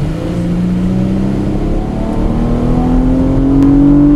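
Porsche Panamera 4S exhaust revving steadily, a deep, loud engine note rising gradually in pitch as the revs climb, close by with no talk over it.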